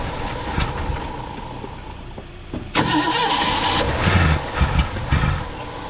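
A Ford Fairlane project car engine cranks and catches partway through, then runs rough with several throttle blips rising in loudness, close by and with no one talking.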